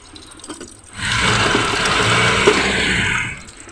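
Tap water runs into a sink while guavas are washed in a home kitchen. A close, steady rushing stream starts after a second of quiet and flows for about two and a half seconds before easing off, with no voices.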